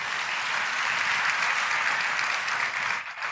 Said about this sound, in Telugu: వీళ్ళు చప్పట్లు కొట్టి దేవుని మహిమపరచండి